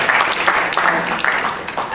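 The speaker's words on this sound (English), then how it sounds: "please clap" Clapping from an audience at a business talk, a loud uneven patter of hands with bursts of individual claps close to the microphone.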